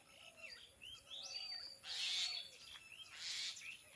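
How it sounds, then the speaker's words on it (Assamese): In a quiet village setting, a bird repeats short chirping and whistled calls in bursts, the louder phrases standing out against a soft background, fairly faint and with no voices. "এইফালে এজনী চৰায়ে মাত মাতি আছে"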